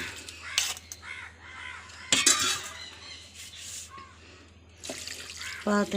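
Water splashes and pours in short bursts into a pot of mackerel with coriander powder, turmeric, fennel and salt, while crows caw nearby in the background.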